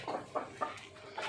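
Domestic hens on a desi poultry farm give a few short, moderately loud clucks in a steady, spaced rhythm, with no one talking.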